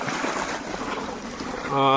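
Water from a motor pump gushes steadily out of a pipe in a constant rushing flow, and a voice begins speaking just at the end.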